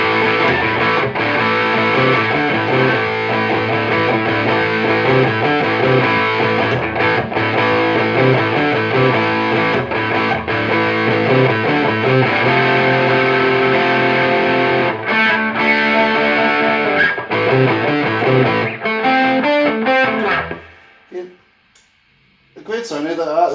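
Heavily distorted electric guitar chords through a Fender Deluxe III amp with the drive on ring out continuously, thick and sustained, before cutting off near the end and leaving a brief near-silence.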